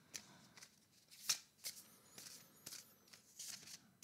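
Tarot cards are shuffled in short, crisp riffling bursts, each a quick papery flutter, repeated several times at close range and fairly quiet.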